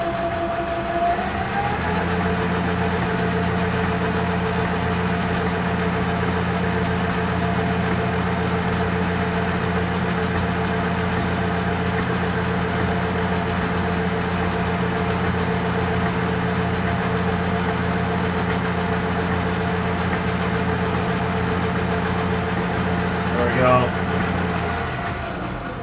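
A lathe turns a Troy-Bilt rototiller shaft while a high-speed steel tool bit cuts a small 60-degree chamfer, giving a loud, steady motor and spindle hum with a faint cutting rattle near the end, and someone talks over it.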